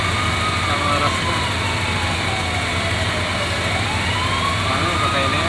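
Fire truck siren wailing steadily in heavy traffic, loud and continuous with rising and falling tones over a constant rumble of engines.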